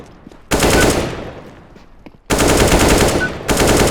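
Automatic rifle fire in Counter-Strike: Global Offensive aimed at bots: loud sustained bursts, one fading into a ringing tail, then two more rapid volleys back to back, with no talk.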